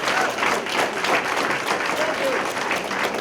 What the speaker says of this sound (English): can I have a round of applause for our veterans from the Chelsea Soldiers Home and our guests